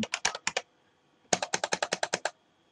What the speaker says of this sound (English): I can click on enter a message and I can start typing.